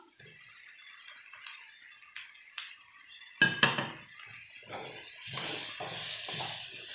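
Beef and capsicum stirred together in a pan, with a steady background hiss, a couple of sharp metal clinks near the middle, then repeated scraping and rattling of a utensil against the pan.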